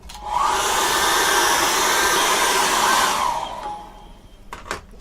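A hair dryer blows steadily on acrylic paint in a still life, a loud close rushing whoosh for about three seconds before switching off and fading, followed by a couple of small clicks, with no talk.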